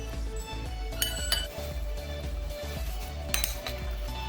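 Spoon clinks and scrapes against a bowl while chicken shawarma marinade ingredients with oil are stirred together, with several sharp metallic taps over a continuous low scraping, close and fairly quiet, no voices.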